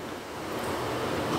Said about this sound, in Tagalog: Pero sa lakas ng hangin.